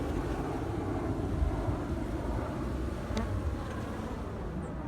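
Honeybees buzz on cleansing flights around an apiary in early March, a dense, steady hum of many insects filling the air, with a brief sharper passing buzz partway through.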